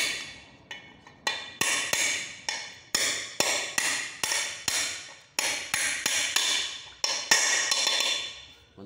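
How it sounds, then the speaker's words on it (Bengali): A 30 mm socket is tapped again and again to press a 6200 bearing into a Pulsar 150 motorcycle engine: about fifteen sharp, close metallic knocks in a steady rhythm, each ringing briefly before the next. "30 নম্বর সকেট দিয়ে ধীরে ধীরে প্রেস করব"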